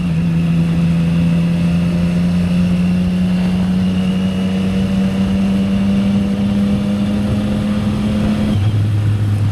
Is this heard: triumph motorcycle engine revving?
yes